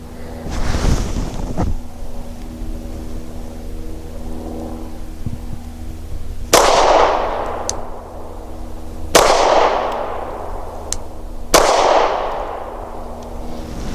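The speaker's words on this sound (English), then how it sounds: "I'm going to start things off with 115 grain Barnaul steel jacketed." Canik TP9 Elite SC pistol firing 115 grain Barnaul steel-cased ammunition outdoors, three loud sharp shots spaced a few seconds apart, each with a decaying echo over a low wind-like background.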